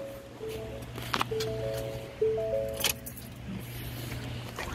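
Ignition key turned in a 2020 Ford F350 with the 6.7 engine: a few sharp clicks and key jingles, with short electronic dash chimes over a steady low cabin hum.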